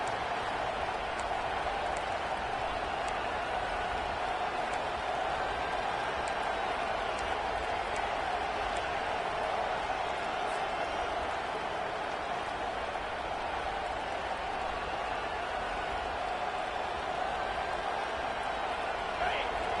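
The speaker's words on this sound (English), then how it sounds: "Listen to this crowd just shaking the girders of this place, trying to help their defense." A huge American football stadium crowd roars steadily in a dense, unbroken wall of noise that holds at the same loud level throughout.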